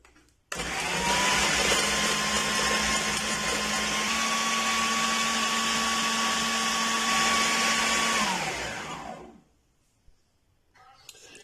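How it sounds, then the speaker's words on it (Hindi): An electric chopper machine grinds bread crumbs in one loud, steady whir that starts abruptly, holds for about eight seconds, then winds down and stops. "अब एक चॉपर मशीन ले लेंगे और ये जो हमारे पास ब्रेड क्रम्ब है वो इसमें डालेंगे।"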